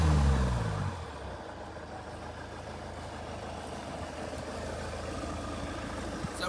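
A Ford Galaxy Mk4 2.0 TDCi diesel idles steadily during a DPF regeneration, a low, even engine drone heard close with no voices, after a brief louder rumble at the start.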